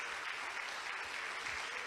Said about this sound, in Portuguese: Pode aplaudir mesmo.